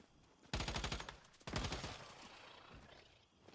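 Two rapid bursts of automatic gunfire in the video game Once Human, each a quick rattling string of shots that trails off, separated by a short pause, with quieter reverberation afterward.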